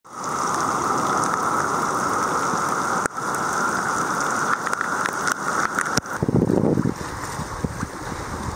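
Heavy tropical rain in the Maldives pours continuously in a dense hiss, with a brief low rumble partway through.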